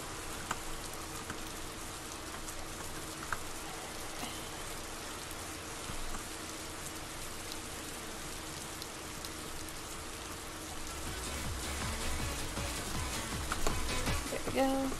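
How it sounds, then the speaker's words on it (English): Steady rain pours outside in a Roblox Bloxburg game, a continuous soft hiss of falling drops throughout, moderately quiet, with a slight rise in the final seconds. "It is raining outside."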